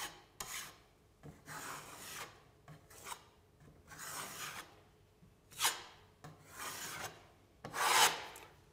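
A filling knife spreads quick-drying surface filler across a surface area, giving a series of dry rasping scrapes in irregular strokes, close and moderately loud with brief pauses between passes.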